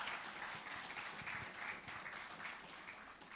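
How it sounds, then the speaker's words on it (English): A crowd applauds steadily, a dense wash of many hands clapping at moderate volume throughout. "Give her a round of applause for me, please, Miss Henry."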